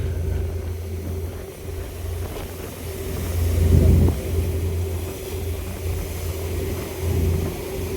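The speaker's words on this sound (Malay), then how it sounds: "Ni macam bot penyelamat ni. Kan main besar lagi ya. Boleh bawa motor kamu ya." A large ferry carrying vehicles and motorbikes crosses the Andaman Sea toward Sabang island, its engine a steady low drone and hum with a brief swell in loudness midway, heard from on board amid wind.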